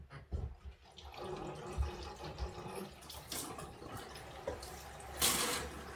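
Water runs from a tap after four water filters have been replaced, a steady rushing flow with a few spluttering bursts and a louder gush near the end, heard alone with no talking.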